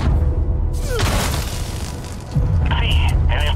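Punches landing on a sensor device in the video game Avatar: Frontiers of Pandora, giving loud cracking, booming impacts over dense game sound, with a rising electronic tone near the end.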